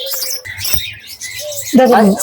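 Pet birds in a bird shop give high, bright chirps and short whistled calls, close by and fairly loud, with a burst of busier chirping near the end.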